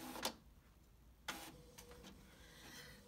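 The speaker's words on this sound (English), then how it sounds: "I have an HP Envy Photo 6255 printer, and I absolutely love it." An HP Envy Photo 6255 inkjet printer prints a page, giving two sharp mechanical clacks from the paper feed followed by softer ticking and whirring as the print head moves, close and fairly quiet.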